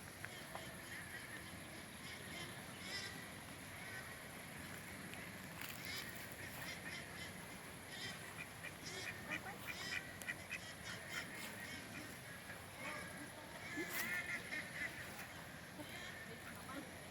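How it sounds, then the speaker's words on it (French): Ducks quack and honk from a large duck pond behind the scene, faint and distant under a steady outdoor background hum, with scattered calls throughout and no talking in the foreground. "Et là derrière on entend les canards là. Il y a une grande mare aux canards."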